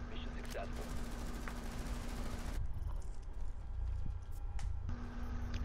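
Rapid gunfire bursts from a video game firefight ring out loud and close for several seconds, then break off and resume, with players talking over the shots.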